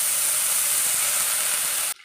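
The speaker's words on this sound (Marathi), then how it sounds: "आपलं बटर छान गरम झालं की त्याच्यामध्ये एक मोठा चमचा जिरं घातलेला आहे" Butter with a large spoonful of cumin seeds sizzling in a hot kadai on a gas stove, a steady loud hiss that holds evenly for about two seconds and then cuts off abruptly.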